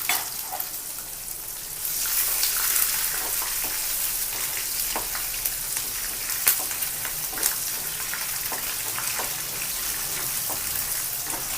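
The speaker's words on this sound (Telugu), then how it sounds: "ఎండుమిర్చి వేసాక మనం ఉల్లిపాయ పచ్చిమిరపకాయ ముక్కలు వేసుకుంటున్నాం" Chopped onions and green chillies sizzling in hot oil with dried red chillies for atukula (poha) upma, a steady close frying hiss with small crackles and the occasional stir, no talk.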